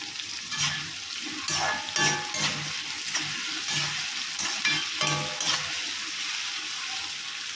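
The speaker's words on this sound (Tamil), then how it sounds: "நல்லா வெங்காயம் வதங்கட்டும் வெங்காயம் இருக்கும் இருக்கும்போது கொஞ்சம் கருவேப்பிலை சேர்த்துக்கலாம்" Onions and curry leaves sauté in a hot pan for a Kongu-style green gram curry, giving a steady close sizzle broken by repeated scraping stir strokes at an uneven rhythm, with no voices.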